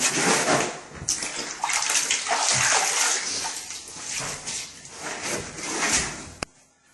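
A wet sponge wipes excess grout off floor tile in repeated scrubbing strokes, a close, wet swishing and sliding that rises and falls before stopping with a light knock.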